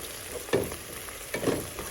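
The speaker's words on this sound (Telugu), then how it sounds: "ఇప్పుడు ఆనియన్స్ అన్నీ ఆయిల్లో వేసేసి అవి ఆల్మోస్ట్ ఫ్రై అయిపోయాయి." Onions frying in oil in a pan, a close steady sizzle with two louder bursts of crackle about a second apart, as if the pan is stirred or shaken, with no talking.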